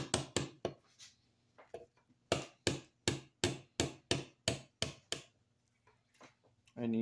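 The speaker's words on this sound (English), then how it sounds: "And you knock your roll pin right out." A hammer taps a drill bit to drive a roll pin out of a part on a 1970 Ford Torino: about a dozen sharp, close metallic knocks in a steady rhythm, with brief pauses.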